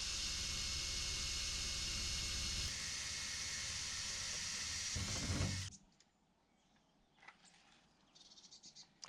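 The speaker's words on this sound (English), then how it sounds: "Let's put a hole in a perfectly good metal door." Loud, continuous grinding-drill noise boring through a metal front door for a tiny house, steady for about six seconds before cutting off abruptly, followed by quieter workshop sounds and faint scraping.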